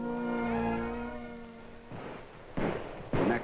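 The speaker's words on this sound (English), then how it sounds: "The next morning, firecrackers are set off to celebrate a holiday" A sustained tone fades into several sharp crackling bursts of firecrackers set off for a holiday in Beiping, loud and close, going off in quick succession.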